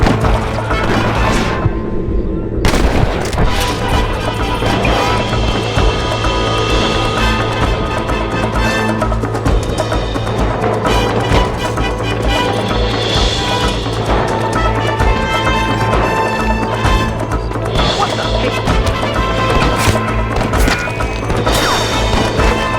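Gunfire and crashing action sounds from the Western video game Red Dead Redemption, with repeated sharp shots and impacts over a dense, continuous game soundscape and music bed.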